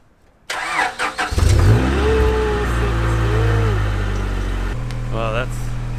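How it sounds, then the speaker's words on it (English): A Honda Integra DC2, left sitting abandoned, cranks briefly with a weak battery and then catches and settles into a loud, steady idle. The engine runs close by and alone, with no talk over it. "Let's see if it still starts."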